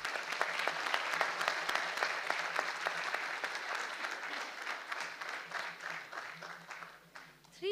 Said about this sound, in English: with a huge round